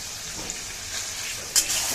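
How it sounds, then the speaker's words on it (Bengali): Potatoes sautéing in a pan for a poultry curry, a steady hissing sizzle that swells briefly near the end with a sharp spatter or scrape, close with no talk. "আলুটাকে একটু ভালো করে রান্না করে নেই, কষিয়ে কষিয়ে রান্না করে নেই"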